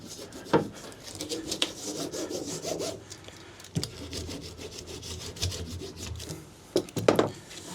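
A blade saws and rasps through insulation board during a van build-out, in uneven bursts of scraping strokes with a few sharp knocks, close and moderately loud.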